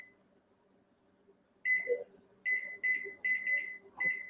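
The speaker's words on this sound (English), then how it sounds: "I'm going to set this timer." A kitchen timer beeps during home cooking of a plant-based meal prep, with a series of short, bright electronic beeps in quick bursts over a quiet background and faint kitchen noise.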